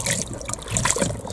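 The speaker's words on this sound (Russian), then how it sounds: "все, вода побежала." Water runs from a pipe fitted with a PVC cap into an animal drinker, a steady close trickle and splash that goes on continuously.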